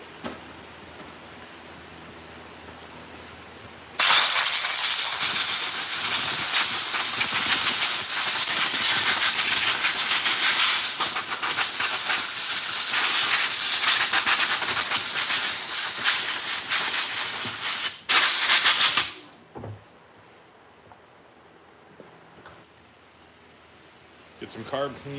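Compressed air blasts loudly and steadily into a Stihl FS 90 R string trimmer caked with debris, a continuous broadband hiss lasting about fifteen seconds before cutting off to quiet.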